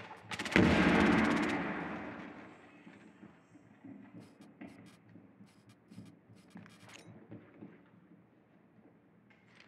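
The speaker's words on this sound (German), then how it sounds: "Granate." Grenade detonating in Rainbow Six Siege: a loud, close blast erupts near the start and rumbles as it fades over a couple of seconds, followed by scattered clattering debris and gunfire-like pops.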